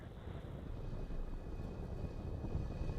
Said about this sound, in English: And liftoff of the Falcon 9 and Starlink.